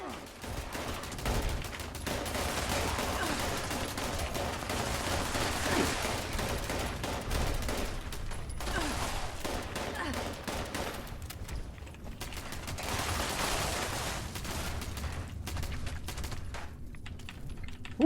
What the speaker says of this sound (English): What else we got? Submachine gun.